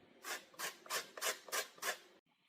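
Lemon zest is grated on a hand grater for a fish pie, six even rasping strokes in a steady rhythm, close and fairly soft, then a brief stop with no speech.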